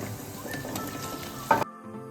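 Patra leaves dropped into a hot tempering of green chillies and sesame seeds give a loud, steady sizzle and crackle that flares briefly near the end, then cuts off abruptly, leaving a faint hum.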